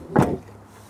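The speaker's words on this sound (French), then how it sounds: "je ferme ma porte" Door of a BMW M2 G87 car shutting, a single short solid thud heard close inside the cabin, followed by quiet.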